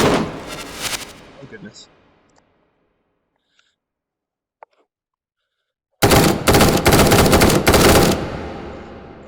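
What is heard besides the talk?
full-auto gunfire in the video game H3VR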